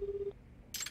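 A phone call being placed in the video game Lost Judgment: a steady electronic tone sounds for about a third of a second, followed by a short bright burst near the end, with no talking.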